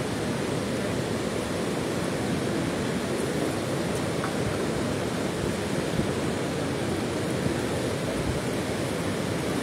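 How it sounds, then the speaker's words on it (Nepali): Steady rain falling outdoors near a river road about three kilometres past Simaltal toward Nangad, a dense, even hiss of close rainfall with no pauses and no one speaking. "यतिखेर यहाँ पानी परिरहेको छ।"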